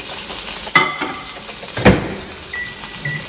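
Sizzling from meat searing in a hot pan with a couple of sharp clattering bursts as it is flipped, plus a faint high tone near the end.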